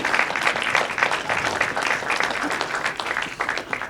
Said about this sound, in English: Can we get an applause for them?